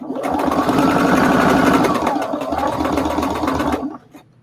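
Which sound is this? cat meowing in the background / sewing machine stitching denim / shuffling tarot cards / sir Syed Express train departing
sewing machine stitching denim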